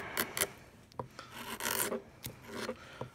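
A wood gouge scrapes and pares across the arched spruce top of a violin on a workbench, giving a series of short rasping strokes in irregular rhythm, close and moderately loud with no talk.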